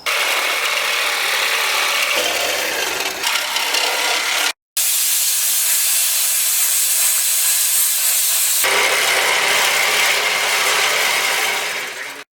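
A reciprocating saw cuts through the steel frame of a Monte Carlo G-body car with a loud, continuous harsh rasping buzz. It stops briefly and then resumes at a steady, intense level.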